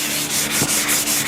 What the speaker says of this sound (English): we're sanding with this, and it's probably around a 320 grit, maybe a 300 grit